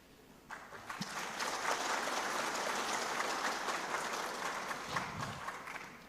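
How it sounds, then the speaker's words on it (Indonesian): Broad, sustained applause from a large audience at an LDII national working meeting in 2023, swelling in after a brief pause and holding steady, dense and full, for several seconds. "Ini tepuk tangan terus"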